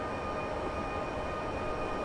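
An NS DDZ double-deck electric train drives in Train Simulator 2014, giving a steady rolling rumble of wheels and motors with a faint high whine, continuous and without speech.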